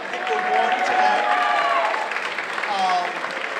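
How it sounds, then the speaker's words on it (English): Applause with some cheering from an audience at a school bands winter concert, steady and moderately loud throughout, with a voice or tonal sounds faintly mixed in. "Big round of applause."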